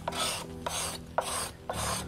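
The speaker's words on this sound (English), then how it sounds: "Now, taking that away" A steel blade scrapes across guitar wood that was power-sanded to 180 grit, giving four long rasping strokes in a steady rhythm, each opening with a sharp catch. The strokes are close and moderately loud, with no talking.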